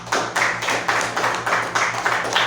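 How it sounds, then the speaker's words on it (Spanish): Brief round of steady clapping from a small seminar audience applauding a physics lecturer, close and continuous throughout. "Un aplauso al doctor Soto."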